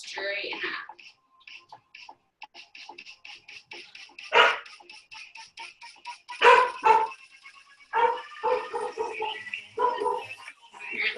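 A dog near a house barks repeatedly in quick yips and whimpers, loud and close, in bursts spread across the stretch, with no talk over it.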